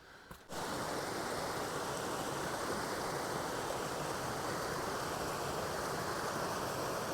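Camper's Creek on the Hunters Creek trail in Rocky Mountain National Park rushes steadily close by, a loud, continuous wash of flowing water that starts abruptly and holds unbroken, with no voices.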